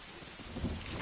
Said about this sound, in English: Yeah, it's raining.